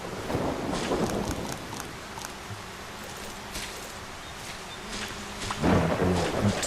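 Steady rain pours in the Solarpunk video game, a dense even hiss with low rumbling thunder rolling underneath and a brief louder swell near the end, with no one speaking.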